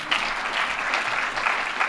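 An audience claps steadily in a dense, even wash of applause that holds for a couple of seconds, with no talk over it.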